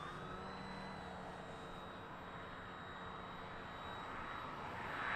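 A radio-controlled model plane's engine drones steadily in flight with its flaps deployed, a continuous mid-level hum with a faint high whine, holding even and growing slightly louder toward the end.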